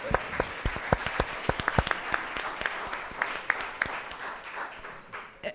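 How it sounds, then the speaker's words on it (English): A round of applause from the audience at a charity chef competition event, with sharp individual claps standing out over steady clapping that fills the whole stretch and thins near the end. "Let's give him up a round of applause."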